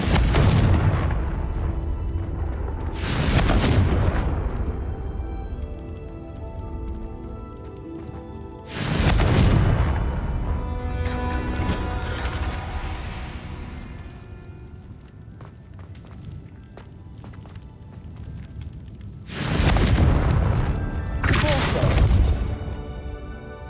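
Confringo spell blasts go off in Hogwarts Legacy. Several loud booming explosions are spread across the stretch: a pair near the start, one in the middle and a closely spaced pair near the end, each trailing into rumbling decay between quieter ambience.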